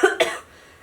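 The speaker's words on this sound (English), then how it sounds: "Sorry, I have a cough." Two quick, harsh coughs close together, close to the listener, followed by quiet.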